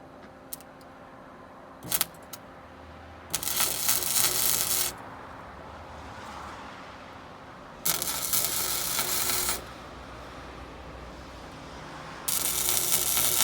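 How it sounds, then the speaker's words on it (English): Tack welds go onto a heavy motor in three separate bursts of loud crackling, buzzing arc noise, each lasting a second or two, with quiet pauses and a few small metallic clicks between them. "we're going to do some tack welds first"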